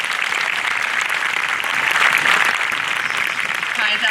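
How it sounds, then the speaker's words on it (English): Applause at a high school graduation for scholarship recipients, a dense, continuous clapping from a large crowd that stays even and fairly loud throughout. "Can we give them a round of applause?"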